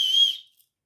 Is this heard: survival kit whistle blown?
yes